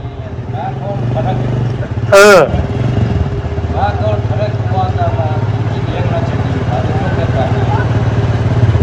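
A scooter engine runs at a steady low idle close by, with a brief sharp burst partway through, as people talk over the constant hum.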